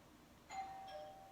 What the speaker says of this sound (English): Bell. I'll be right back.